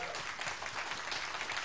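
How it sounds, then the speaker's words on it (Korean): Steady applause from an audience at a K-pop singer's album comeback showcase, a dense, continuous wash of many hands clapping at once with no pauses, heard alone. "박수 한번 주세요."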